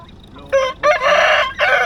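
A rooster crows loudly and close by at a market in Laos selling ducks and chickens, one full drawn-out cock-a-doodle-doo after a short opening note.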